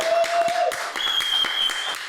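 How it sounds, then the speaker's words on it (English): Applause welcomes a podcast guest, trader Jon Najarian, on stage: a fairly close, energetic burst of clapping from a modest crowd, with individual claps audible and a few faint tonal squeals over it. "So let's bring applause for"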